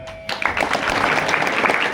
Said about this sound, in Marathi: एकदा यांच्याकरता टाळ्या वाजवा.